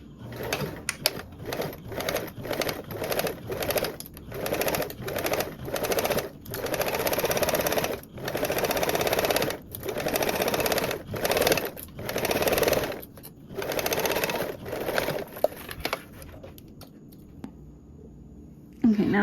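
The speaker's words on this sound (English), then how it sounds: "we're going to top stitch along with a 1/2 inch seam allowance" Sewing machine top stitching along a fabric edge at a half-inch seam allowance, steady whirring runs in repeated bursts with short pauses between them, close and clear throughout.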